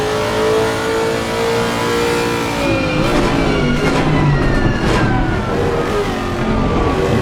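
GT3 race cars, a Lexus among BMWs, howl around Imola in a racing video game, engines droning loudly and steadily with rising and falling revs as several cars run close together.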